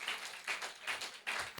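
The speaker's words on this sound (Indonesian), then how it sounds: "Berikan tepuk tangan buat Tuhan." Church congregation clapping in a faint, quick rhythmic pattern, four soft pulses of claps over a little more than a second.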